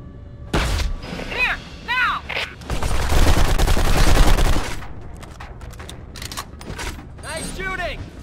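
Gunfire in the shooter game BlackSite Area 51: bursts of rapid shots and a sustained volley of firing, mixed with game music and character voices.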